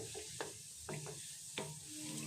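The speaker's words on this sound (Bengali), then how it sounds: "আলতু হাতে এভাবে করে করে নাড়িয়ে দিতে হবে।" Gulab jamun balls being gently stirred as they fry in oil, with a low steady sizzle broken by three or four soft scraping strokes of the spoon, close and quiet, no talking.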